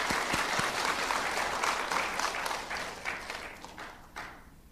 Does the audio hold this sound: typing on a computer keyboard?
no